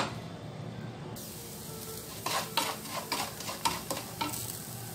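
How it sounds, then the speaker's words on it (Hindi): Sugar caramelizing in a pan on a low flame, stirred with soft scraping and a quiet sizzle that grows more distinct in the second half, with several brisk stirring strokes. "धीमे फ्लेम पर मिलाते हुए इसको पकाते जाएंगे"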